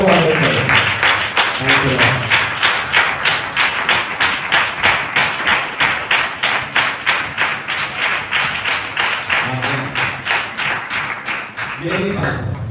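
A church congregation claps in unison at a kids' Sunday sermon gathering, a loud, steady rhythmic beat of hands lasting the whole stretch, with brief voices rising at the start and near the end.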